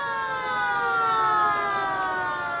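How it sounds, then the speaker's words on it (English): Warning siren sounding before the implosion of Provincial House in Bradford, a steady loud wailing tone with rich harmonics, slightly falling in pitch and held throughout without pause. "The siren warns the city of Bradford to brace themselves for blowdown."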